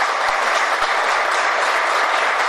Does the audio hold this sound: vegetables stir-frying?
no